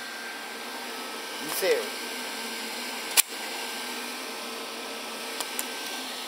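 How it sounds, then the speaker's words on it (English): Steady whooshing drone of a noisy cooling fan in a Windows XP gaming PC with an X1800 XT graphics card, running continuously at moderate level with a few faint clicks while a voice speaks briefly. "And I left the noisy fan on because"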